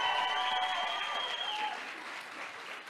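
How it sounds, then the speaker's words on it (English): A church congregation at a Sunday service applauds steadily for a birthday, dense clapping with a couple of high cheering whistles that fade toward the end. "Let's give a cheer."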